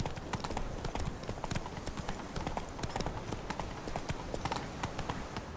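Hoofbeats of Geralt's horse Roach galloping fast in The Witcher 3, a loud, close, rapid clip-clop rhythm running steadily throughout.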